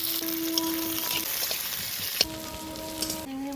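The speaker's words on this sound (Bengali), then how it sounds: "এবার দিব ফোড়ন, গোটা জিরে," Whole cumin, black cumin and fennel seeds frying in hot oil as a tempering, a loud continuous sizzle with a few brief stirring knocks in the pan, playing under soft background music.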